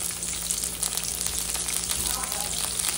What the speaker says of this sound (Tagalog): So ilagay natin yung leeks, onion leeks